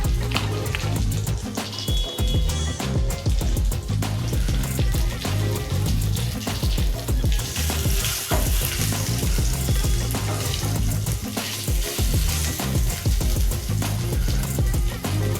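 Asafoetida dropped into hot oil for a pumpkin curry, a loud continuous crackling sizzle that stays dense throughout, no talking.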